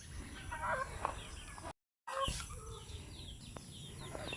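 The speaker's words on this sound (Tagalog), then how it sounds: "Nguli na pod ang manok kay hapon naman." Chickens coming home in the late afternoon, clucking and calling close by over a low outdoor background, with a short full silence partway through.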